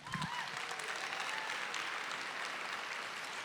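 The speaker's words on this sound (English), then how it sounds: "Give me a round of applause." Conference crowd at an opening session giving a round of applause, a dense, steady patter of clapping heard from within the room, with a brief cheer at the start.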